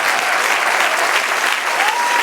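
A church congregation breaks into dense, sustained applause, loud and continuous with no pauses, filling the room.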